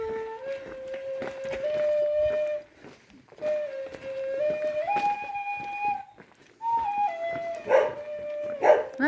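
A dog in a small town on the Camino de Santiago in Spain vocalizes in a series of drawn-out whining howls and yelps with rising and falling pitch, separated by short pauses, fairly close.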